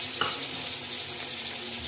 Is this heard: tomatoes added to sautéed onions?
yes